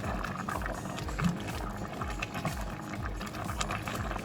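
Creamy chicken noodle soup with rotini boiling in a pot, a steady low bubbling and gurgling that continues without a break, moderately close.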